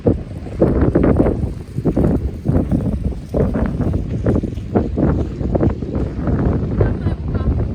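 Strong wind gusting by the sea at Peterhof palace park in St. Petersburg, a steady loud rumble buffeting the microphone throughout.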